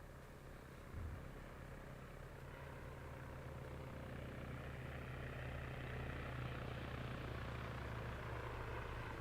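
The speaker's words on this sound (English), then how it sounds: "Full chopper coming in here, Bourne." Faint helicopter in ARMA 3 arriving, a low rotor and engine rumble swelling gradually as it draws nearer, with one brief thump near the start and no voices.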